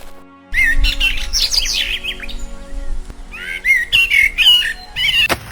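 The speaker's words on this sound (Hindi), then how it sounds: "गौरी जहां भी जाती, चिड़िया उसके पीछे पीछे उड़ती रहती" A cartoon bird chirps and tweets as it flies, bright whistled phrases in two loud bursts with a short quiet gap between them and no talking.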